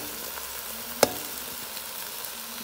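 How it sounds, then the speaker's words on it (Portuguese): Tomato, bell pepper, onion and garlic sauté in a pan for a beef oxtail stew, a soft steady sizzle broken by one sharp tap or clink near the middle. "Eu coloquei, pessoal, aquela cebola lá que eu reservei e o alho. Olha, pessoal, tá refogando aí"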